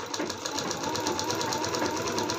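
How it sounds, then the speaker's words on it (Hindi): A sewing machine stitches a long blouse sleeve in one brief, steady, close whirring run, with no voices. "अब इसके ऊपर सिलाई लगाएंगे"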